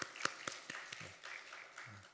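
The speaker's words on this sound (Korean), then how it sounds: "박수로 환영합니다" A church congregation claps in welcome for a missionary: a short burst of scattered claps, several sharp hits at first then thinning into a soft patter, fairly faint and distant.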